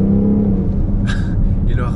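A 2018 BMW X5 M50d diesel SUV pulls forward under light throttle in comfort mode, its low engine drone steady and close beneath the cabin, with a couple of brief higher rustles partway through.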